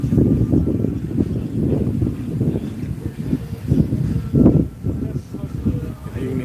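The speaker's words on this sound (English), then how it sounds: "How's that wind sounding? Is it too loud?" Low rumbling wind buffets the microphone outdoors in uneven gusts, loud and close, with a voice partly buried under it.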